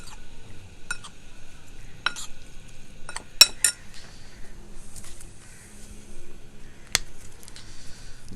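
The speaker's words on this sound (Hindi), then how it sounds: "और 2 चम्मच हम इसके अंदर डालेंगे बेसन। इसके बाद हम इसको अच्छी तरह मिक्स कर लेंगे।" A spoon mixes chicken with chaat masala and gram flour in a bowl, giving scattered metallic clinks and scrapes at irregular intervals over a soft background, fairly quiet and close.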